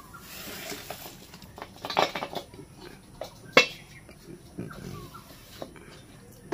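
Half-boiled taro stolons are tipped out of a cooking pot, with scattered metallic clinks and clatters of the pot and utensils, a few sharper knocks standing out against a quiet kitchen background.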